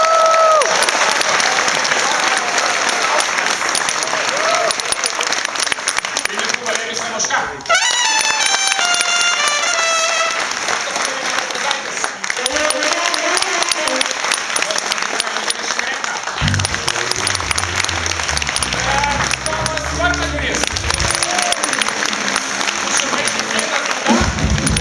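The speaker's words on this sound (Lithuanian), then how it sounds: "Plojimai jai!" A live audience at a children's song contest claps in sustained, loud applause for a long stretch, with crowd noise and some brief voices and music coming through partway.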